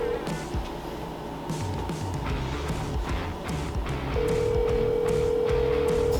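Phone call on speakerphone ringing out: a steady ringback tone starts partway through and continues over a dense, noisy background rumble.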